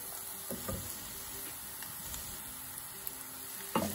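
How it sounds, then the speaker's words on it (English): Onions frying in oil over medium-high heat give off a steady, soft, close sizzle, with a few faint stirring scrapes and a sharper clatter near the end. "We're going to turn on the heat under the onions and oil."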